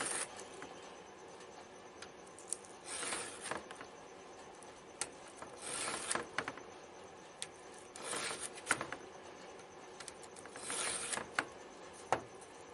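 Repeated rasping strokes of a round file in a Stihl sharpener on a chainsaw chain, grinding in a steady rhythm of short scrapes with brief pauses between.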